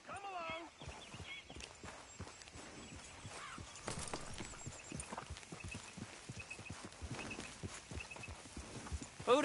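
A horse walks along in Red Dead Redemption 2, its hooves clip-clopping in a steady, close rhythm for several seconds while a voice talks over the top.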